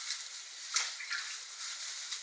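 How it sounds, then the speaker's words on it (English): Water sloshes and splashes softly in a kitchen sink filled with water, used to press the air out of a plastic bag of coated beef jerky. The sound is quiet and close, with a few small surges. "You fill your sink up with water."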